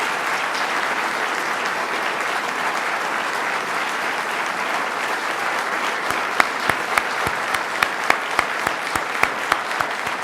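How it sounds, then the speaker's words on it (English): A large crowd at the 2011 New York governor's inauguration applauds Governor David Paterson with ten seconds of loud, sustained clapping, and a few sharper individual claps stand out near the end. "let's give a big round of applause to Governor David Paterson"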